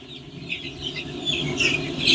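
Andijan black chicks cluck and cheep in soft, scattered bursts that grow a little louder toward the end, heard close up with no talking.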